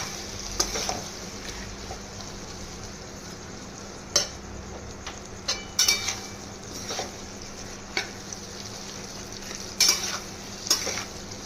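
Green chillies and capsicum frying in a pan for chilli chicken, a steady low sizzle with sharp clicks of a spatula stirring and scraping at irregular intervals, close by with no voices.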